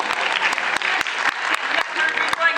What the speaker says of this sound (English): That should get bigger applause.